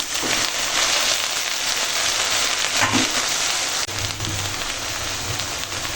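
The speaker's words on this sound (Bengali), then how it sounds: "দেখো এখন ভিনালতো শাক রান্না হচ্ছে" Greens frying in a pan with onion tempering, giving a steady, dense sizzle like heavy rain that continues throughout at close range with no talking.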